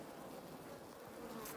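Honeybees in an opened hive being readied for winter, a dense continuous buzzing hum, steady and close, with no voices.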